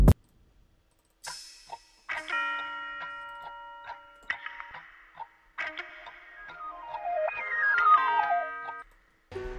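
A prog-style synth loop programmed in FL Studio plays alone, with bright sustained chords and quick arpeggiated runs stepping up and down, broken by short gaps and clicks, fairly quiet and clean.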